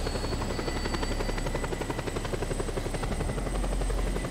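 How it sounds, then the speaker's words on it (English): Steady, continuous helicopter rotor and engine drone in the Just Cause 2 video game, moderately loud and unbroken with no voices over it. "This just happens to be the same helicopter."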